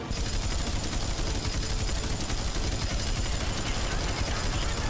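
Aircraft rockets firing in the PS3 game IL-2 Sturmovik: Birds of Prey make a loud, unbroken barrage of rapid blasts layered over a constant engine roar.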